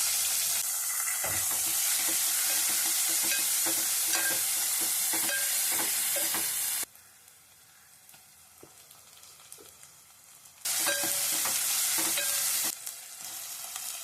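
Onions and curry leaves fry in hot oil with fennel and spices for samba ravai khichdi, a loud steady sizzle with stirring clatter that drops sharply midway, then swells again near the end.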